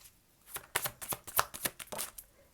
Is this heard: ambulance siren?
no